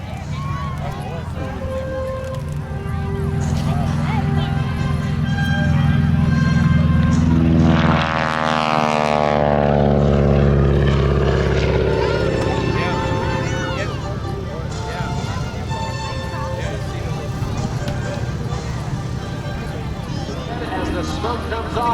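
A Super Stearman biplane flies at an air show in Hammond, Louisiana, its propeller engine droning steadily and loud, swelling as it passes close overhead around the middle with a falling pitch, under an announcer's amplified voice.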